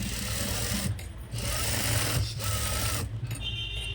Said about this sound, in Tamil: அப்படியே டபுள் தையல் போடணும்.